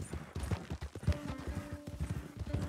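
Steady hoof clip-clop of a ridden horse in Red Dead Redemption 2, a continuous close rhythm of thuds on uneven terrain, with a faint tone running underneath.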